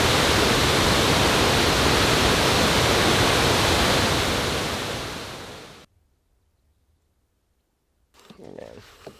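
Roaring waterfall in the British Columbia backcountry, a loud, steady broadband rush that fades out over several seconds into near silence before faint rustling returns near the end.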